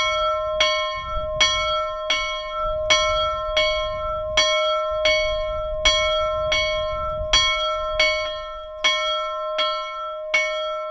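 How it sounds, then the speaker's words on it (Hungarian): A restored church bell, cast in Budapest in 1879, tolls in a slow, regular rhythm, each ringing stroke clear and bright, with a low rumble of outdoor noise between strikes. "egy 1879-ben Budapesten öntött, restaurált harangot állítottak ki"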